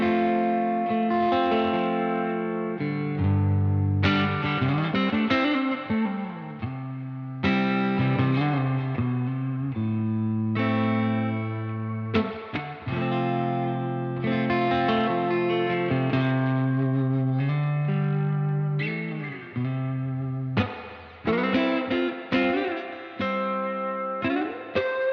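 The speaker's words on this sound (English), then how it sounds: "So it's a spring reverb, so it's going to get really springy." Electric guitar plays through a UAFX amp pedal with its spring reverb turned all the way up, giving loud, distorted chords and phrases a drippy, springy tail, steady throughout with no talk.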